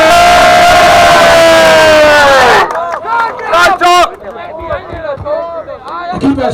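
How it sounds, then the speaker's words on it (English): Rally crowd at Holyrood roaring with applause and cheers for a speaker, a dense loud wall of noise for a few seconds before breaking into scattered whoops, shouts and babble of voices. "So everybody a round of applause please for Gavin Turpie"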